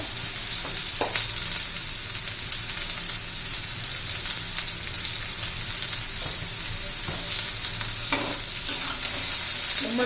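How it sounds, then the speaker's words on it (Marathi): Ridge gourd sautéing with salt in a hot pan, a continuous bright sizzle with occasional scraping strokes of a spoon stirring the pieces, close and fairly loud with no voices. "चांगला आपला परतून घ्यायचा आहे दोडका त्यामध्ये ना थोडंसं मीठ घालून घेऊया"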